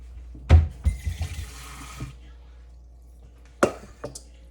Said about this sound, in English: Now I'm going to get a little bowl and put some water in it.